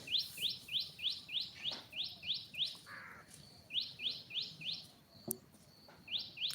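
Bright, high chirps from a bird come in quick regular runs, a long series, then a short pause, then another series, clear and close over faint background noise.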